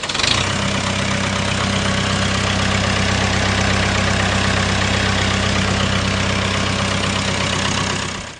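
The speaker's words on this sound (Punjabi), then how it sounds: "ਅੱਜ ਹੀ ਜਿਹੜਾ ਇੰਪੋਰਟ ਹੋਇਆ ਟਰੈਕਟਰ ਤੁਹਾਡੇ ਲਈ ਲੈ ਕੇ ਆਏ ਆ ਮੈਸੀ" An imported 1970-model Massey tractor engine idles loud and close, a steady low diesel throb with a regular pulsing rhythm that holds evenly throughout, with no voices over it.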